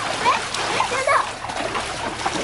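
Water splashes and sloshes in a pool under a hot sun, several irregular splatters close by while children shout and talk over them.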